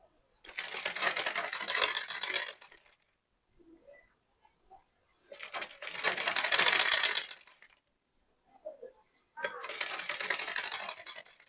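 A sewing machine stitches corset cup pieces together in three loud, close runs of roughly two seconds each, with brief quiet gaps and small handling clicks between them.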